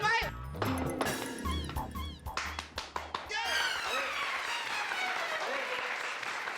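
A crowd of neighbours claps in a comedic courtroom scene, with a brisk burst of applause that swells and rings on as a continuous wash, and speech mixed in at the start.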